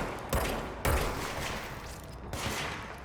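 Bursts of enemy gunfire in the video game Control, a few loud volleys roughly a second or two apart over a steady noisy background.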